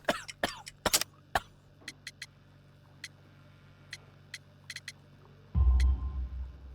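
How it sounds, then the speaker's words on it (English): Several harsh coughs from a game character in Sherlock Holmes: The Devil's Daughter, a sick man with coal dust in his lungs, bursting out in quick clusters and then scattered single hacks, ending in a louder low rumble. "You have a severe cough."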